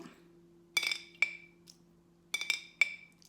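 Someone struggles to open a stiff can of orange juice: sharp metallic clicks and ticks come in two clusters of tries, close and bright, over a low steady hum.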